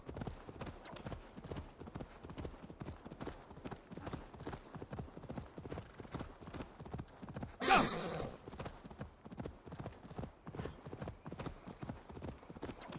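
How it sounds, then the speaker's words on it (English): Horse galloping in the video game Assassin's Creed Valhalla, a steady rapid clip-clop of hooves throughout with a brief loud whinny-like burst midway, continuous and close. "so let's get galloping"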